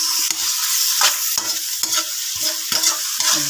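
A spatula scrapes and stirs chicken liver and gizzard sizzling in a pan, with quick irregular strokes over a constant frying hiss, close and alone.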